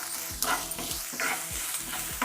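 Rava idli mix with grated carrot and cashews frying in a pan, a steady sizzle broken by repeated scraping strokes of a spoon, close up and with no talking.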